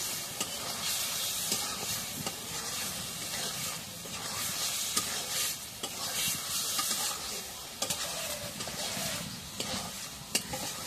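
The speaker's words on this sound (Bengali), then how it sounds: "সয়াবিন বড়ি একটু ভাজে নিই" Soya chunks being stirred and fried in a spice paste in a pan, a continuous hissing sizzle with scraping stir strokes and small clatters throughout.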